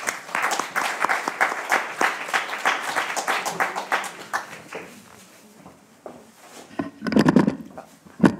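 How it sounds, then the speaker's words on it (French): Audience applause at a lecture in Bordeaux, a dense wash of many hands clapping fairly close for about five seconds, then fading into quiet with a short final burst of clapping near the end. "je voulais simplement les applaudir encore une fois avec vous"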